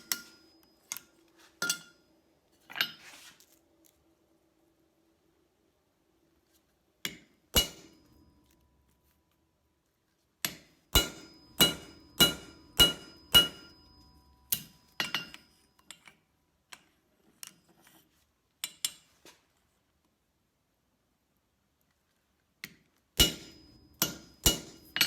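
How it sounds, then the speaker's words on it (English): Hammer driving a punch through hot steel on a blacksmith's anvil while forging a bottle opener, sharp ringing metallic clangs in irregular bursts, including a rapid run of about eight blows, separated by quiet pauses. "So let's head over to the anvil. I'll punch this out"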